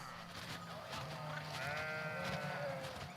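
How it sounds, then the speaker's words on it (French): Ewes from a flock of about 200 sheep bleating on pasture in Bulgaria, several overlapping calls, one drawn-out bleat standing out near the end, over steady outdoor background noise. "Les moutons aiment la liberté."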